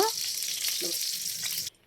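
Hot ghee sizzles steadily in a pot for veg pulao, a bright crackling hiss that stops abruptly after a couple of seconds.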